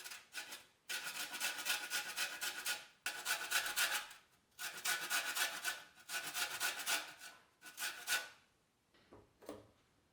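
Lemon zest rasps against a fine grater in quick, rhythmic strokes, five bursts of scraping separated by brief pauses, close and fairly quiet for a baked rice pudding with plums.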